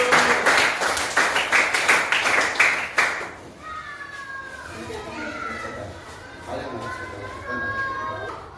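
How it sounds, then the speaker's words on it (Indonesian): A class of children claps together for a group in a classroom, about three seconds of loud rhythmic unison clapping, then fades into the murmur of children's voices and a teacher talking. "Tepuk tangan dulu kelompok Matius."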